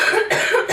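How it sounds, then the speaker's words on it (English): A single sharp cough close by, a short harsh burst with a brief second push, from someone who has allergies. "that cough is not the virus"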